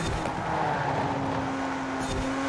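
A Porsche-style GT3 RS race car in Forza Horizon 4 drones steadily at high revs throughout, a sustained engine tone with a faint tire squeal or skid near the end, fairly loud and with no talking.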